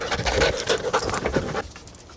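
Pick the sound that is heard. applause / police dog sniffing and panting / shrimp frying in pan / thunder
police dog sniffing and panting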